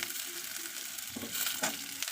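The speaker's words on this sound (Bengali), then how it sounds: "আলুগুলো দিয়ে প্রথমে 2 মিনিট মতো নাড়িয়ে চাড়িয়ে কষিয়ে নেওয়ার পরে টুকরো করা ঢেঁড়সগুলি দিয়ে দেব" Potatoes and chopped okra fry in a pan with a short, close sizzle and a couple of stirring scrapes, no talk.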